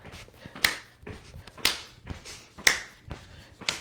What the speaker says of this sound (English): Make sure the hands clap when they come over the head, and the feet come together as well.